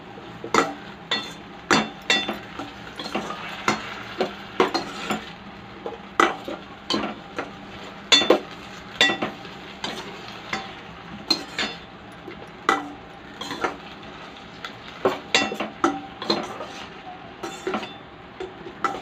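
Utensil stirring tomatoes, dried chillies and bottle gourd pieces in a pan for an old-style pulasari curry, giving repeated close clinks and scrapes at an uneven rhythm with faint sizzling underneath and no talk.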